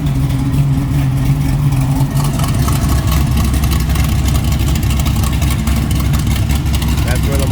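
A 1968 Chevrolet Camaro SS with a 496 V8 idles with its exhaust cutouts open, giving a loud, steady, rumbling burble close by that holds throughout.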